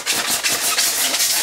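Wheels of a telescoping desk scraping across a floor, a loud, close rasping rub in several quick strokes, with no talk.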